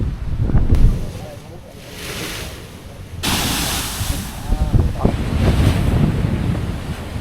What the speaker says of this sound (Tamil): ஸோ இந்த ஏரியாவில் இருந்தால் தண்ணி வந்து மேலே அடிக்கும்.